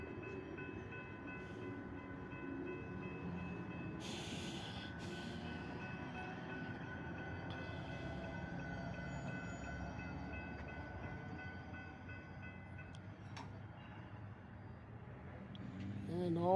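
A CSX hi-rail truck rumbles steadily along the railroad tracks, a low continuous roll with faint clicks and a brief hiss, growing slightly louder toward the end.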